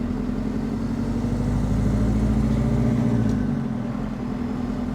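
A JCB 4.4 four-cylinder industrial diesel engine fitted in a Land Rover Defender runs with a steady, deep low rumble, close and loud, holding an even idle-like drone throughout with no talk.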